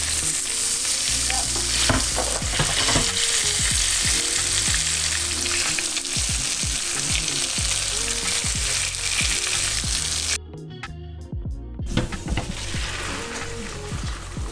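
Fish skin fries in a hot pan with a loud, dense, continuous sizzle and crackle that dips briefly near the end before resuming.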